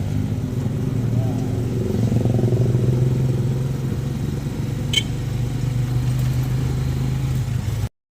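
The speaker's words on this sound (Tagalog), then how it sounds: "Nakasakay ng tricycle." A Philippine tricycle, a motorcycle with a sidecar, rumbles steadily under passengers during a ride, its mid-pitched engine drone continuous and close for several seconds, with a brief clatter partway through.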